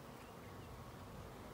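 Swarm of bees clustered in a cedar tree, a dense continuous buzzing hum filling the whole stretch, fairly faint and steady with no voices.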